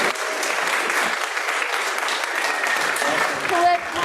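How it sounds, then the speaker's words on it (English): Audience clapping steadily during a Unitarian Sunday service of gratitude, a dense, even wash of applause from a congregation, with a voice speaking briefly near the end. "You can clap as they come forward."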